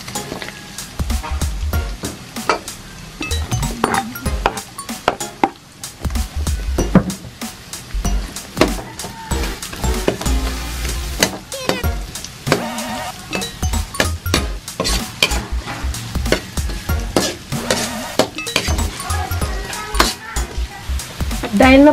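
Garlic, onion and ginger are stir-fried in a pan for coconut-milk chicken adobo, with busy, loud clattering of a utensil against the pan over a continuous sizzle that goes on steadily.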